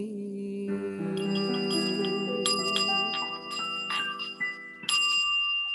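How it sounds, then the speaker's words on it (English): A small healing bowl is struck several times, its bright metallic tones ringing out and overlapping into a sustained, shimmering hum. It sounds close and fairly loud, with no talking. "It's my little healing bowl."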